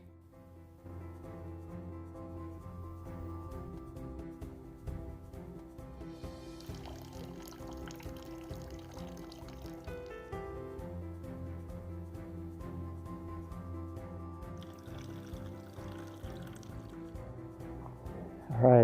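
Water trickling from a small desert spring into a bottle along the Arizona Trail, a steady gurgling pour with a rising fill tone, close and continuous with no talk.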